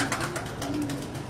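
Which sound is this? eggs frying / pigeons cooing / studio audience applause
pigeons cooing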